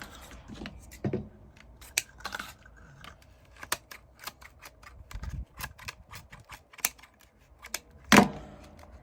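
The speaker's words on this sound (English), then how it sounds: "I'm using my heavy duty crafting scissors, which I absolutely love." Sturdy heavy-duty crafting scissors snip repeatedly in short, irregular cuts through deco mesh, close up, with crisp clicks of the blades and occasional rustling of material.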